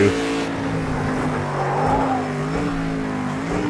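An old Chevrolet race car engine in the video game Project CARS 2 drones steadily at high revs with shifting pitch, loud and close, with no voices.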